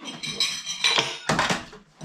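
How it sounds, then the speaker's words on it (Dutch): Metal cutlery falling and clattering in a home, several bright jangling crashes in quick succession, close and fairly loud, with no talking. "Mijn bestek was aan het vallen."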